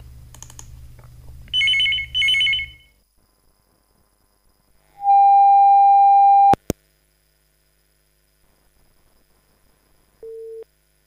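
Telephone line for a radio phone-in call, a low hum and two warbling ring bursts, followed by a loud steady electronic tone, a sharp click, near silence and one short final beep, with no talk.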